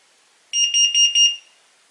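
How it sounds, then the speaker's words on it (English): A carbon monoxide alarm being tested gives four short, shrill electronic beeps in quick succession, close and loud against a quiet background. "Test the carbon monoxide alarm."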